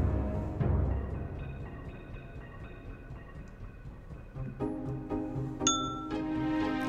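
A small bell in the Myst VR video game gives a light ting, amid a run of bright, ringing chime tones that rise and layer over a soft ambient hum, with one clear high ping near the end.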